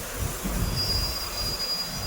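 A passenger train runs along the railway near Sattahip, Thailand, giving a steady low rumble with a faint high wheel squeal, heard continuously from close by with no voices.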